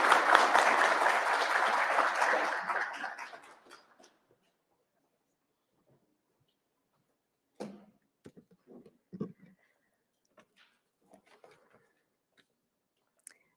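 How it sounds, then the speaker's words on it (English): An audience at a law enforcement training academy graduation applauds warmly for about three seconds, then the clapping fades out, leaving near silence with a few faint scattered clicks and rustles. "Give her a round of applause."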